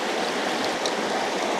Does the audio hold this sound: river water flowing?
yes